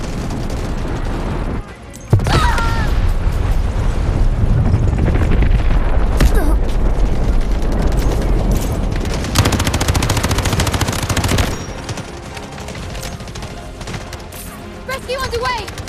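Guided missile launches and rapid gunfire in the Delta Force Mobile shooter game, loud dense bursts of firing and booming blasts running continuously for most of the clip before easing into quieter background sounds.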